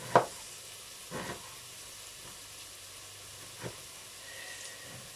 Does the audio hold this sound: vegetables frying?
yes